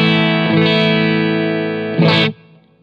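Electric guitar through a Blackstar Silverline amp on its clean, warm EL34 channel with a little reverb: a sustained ringing chord, then a fresh strum that rings briefly before being cut off, close and fairly loud.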